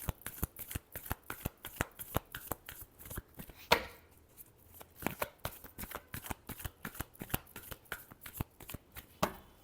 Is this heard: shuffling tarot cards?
yes